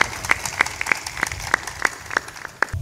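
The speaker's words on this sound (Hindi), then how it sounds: "ताली बजा दो।" Audience at a spiritual discourse clapping in a steady, rhythmic beat, sharp regular claps repeating about three times a second, close and moderately loud, with faint murmuring underneath.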